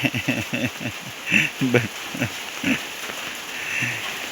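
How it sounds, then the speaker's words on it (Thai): Rain patters steadily on a surface with a constant wash of falling water and rainwater running off, while someone talks over it close by. "เดี๋ยวให้เบิ่งฝนมันตกเนาะมันไหล"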